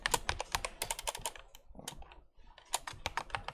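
Rapid clicking keystrokes on a computer keyboard come in close, uneven bursts during a Git tutorial, with short pauses between runs of typing and no voices.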